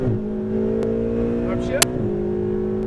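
A Ferrari 488 GTB engine hums steadily and builds under throttle on a track, a continuous near drone with one sharp click partway through.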